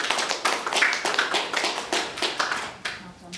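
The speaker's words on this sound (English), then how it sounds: "Should we give them a big round of applause?" Wedding guests applaud in a hall, a dense run of hand claps that rises and fades in waves with a few voices murmuring underneath.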